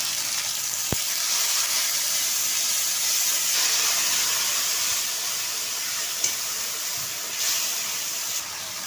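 Ginger, cumin and chili paste sizzling in hot oil for a Bengali tilapia curry with aubergine and potato, a steady close hiss running throughout with one sharp tick near the start.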